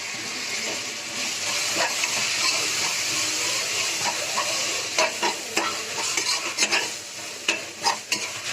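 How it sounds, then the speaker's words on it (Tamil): Tomatoes with a handful of mint and coriander sauté in a pan for mutton biryani. A steady close sizzle runs throughout, and stirring scrapes and clinks come through more often toward the end. "தக்காளி வதங்கட்டும்."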